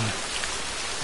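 Steady rain in a video game, a dense, even hiss of falling drops that fills the whole moment at moderate level with no voices over it.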